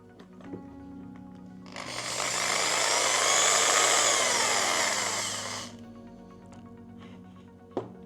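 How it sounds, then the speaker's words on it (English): A power drill whirs steadily for about four seconds, spinning a Mazda MX-5 Miata speedometer drive to simulate its rotation, starting and stopping abruptly, with a quieter low hum underneath. "I will need to use a drill to simulate the rotation"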